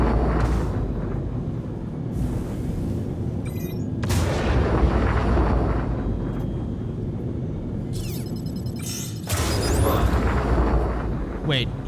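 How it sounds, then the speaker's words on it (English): In the space game Star Citizen, volleys of missiles launch at an enemy ship with repeated heavy booms and whooshes over a constant low engine rumble. "I'm gonna throw a bunch of missiles at this guy."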